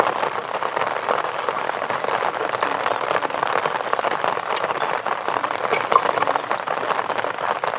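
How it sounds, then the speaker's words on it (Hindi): Heavy rain pelts steadily on an umbrella overhead, a dense, close hiss of drops with no break throughout. "बहुत ज़्यादा बारिश की आवाज़ आ रही है"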